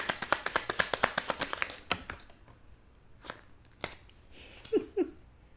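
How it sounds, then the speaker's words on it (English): Tarot cards shuffled by hand, a fast burst of crisp riffling taps that slows to a few scattered card slaps, with a faint murmur near the end. "Let me keep shuffling because that one definitely wanted to be seen."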